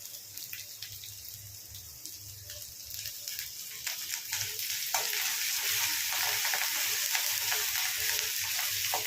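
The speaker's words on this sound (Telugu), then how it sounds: "అల్లం వెల్లుల్లి పేస్ట్ మంచిగా ఫ్రై కానివ్వండి." Ginger garlic paste fries in a pan with a steady, bright sizzle that grows louder partway through, with faint stirring and no voices.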